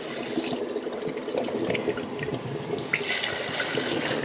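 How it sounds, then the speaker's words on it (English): Water rushes and swirls as a bucket is dumped to flush a miniature 1994 Kohler Highcliff toilet, a steady close-up splashing gurgle lasting a few seconds with a brief surge near the end. "here's a bucket flush"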